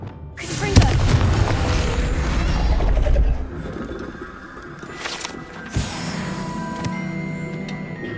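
A Confringo fire spell cast in Hogwarts Legacy lands with a loud booming blast, a rumbling burst of crackle that holds for a few seconds before fading into softer ambient game sound and a later sharp hit.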